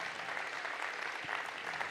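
A hall audience applauds performers at a New Year's greetings ceremony, a dense, continuous patter of clapping that stays even and fairly close for a couple of seconds.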